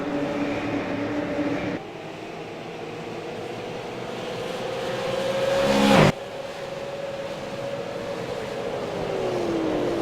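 Super late model race cars, Bump N Run event at Milwaukee Mile, roar past under a loud sustained engine drone with a pitch sweep as one car closes in and passes near the midpoint, then a steady engine hum continues.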